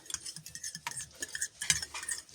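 Rapid irregular clinking of a utensil whisking egg and yogurt in a bowl, quick scraping strokes repeated close up with no talking.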